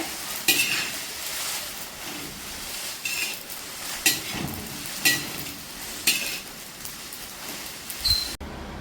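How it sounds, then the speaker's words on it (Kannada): Soft dry scraping and stirring of rasam powder spices roasting in a pan over low heat, repeated at roughly one-second intervals, with faint sizzling underneath and no talking. "ಸಣ್ಣ ಉರಿಯಲ್ಲೇ ಹುರಿಬೇಕಾಗ್ತದೆ."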